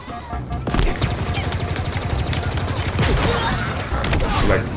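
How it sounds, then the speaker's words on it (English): Halo Infinite firefight with a rapid, dense string of sharp blasts and gunfire-like bursts, grenades going off close and loud over continuous battle noise, with no pauses between hits. "They're throwing grenades."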